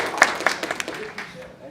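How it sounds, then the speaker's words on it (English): A small audience claps for a speaker taking the stage at an Idea Lab event, brief scattered claps fading out under a voice. "big round of applause for Baha"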